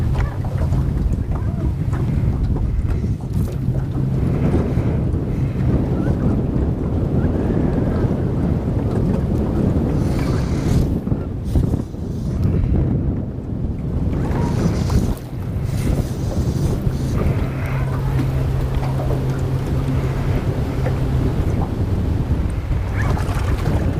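Strong wind blows steadily over a river during fly fishing, a loud buffeting roar with rumbling gusts across the microphone throughout, and no voices.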